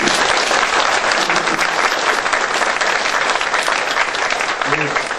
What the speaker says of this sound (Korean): 다시 한번 환영과 축하의 의미에서 큰 박수 부탁드립니다